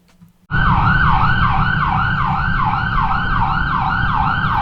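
An emergency vehicle siren in busy Maltese street traffic, a loud wailing two-tone sweep that starts abruptly and repeats rapidly and steadily, close by, with road rumble beneath.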